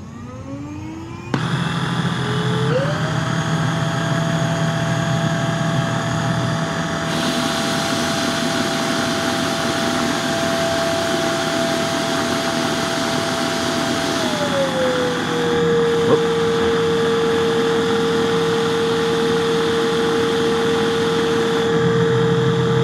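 A PRETTYCARE W100 vacuum cleaner runs on high speed, a loud steady motor whine rising as it spins up, holding level, then dropping to a lower pitch near the end, with no talking.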